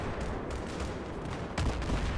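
Grenade launcher and other gunfire in the video game Battlefield 3 on the Gulf of Oman map, a dense muffled barrage of shots with a heavier blast near the end, steady and without talk.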